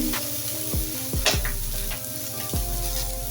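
Chopped onion and chili sizzling in a hot pan for a patol (pointed gourd) fry, with a steady frying hiss and a few scraping stirs of a spatula against the pan.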